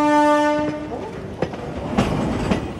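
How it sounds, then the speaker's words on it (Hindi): A train approaches and passes, opening with a loud sustained horn that fades into rumbling and clattering wheels on the rails, with a few sharp clacks near the end. "दूर से आती इस रेलगाड़ी को देखिए, करीब आते आते शोर का सैलाब ले आती है"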